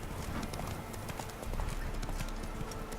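Clip-clop hoofbeats of Roach, a horse ridden in the video game The Witcher 3: Wild Hunt, a steady trotting rhythm over a low ambient bed with no talk.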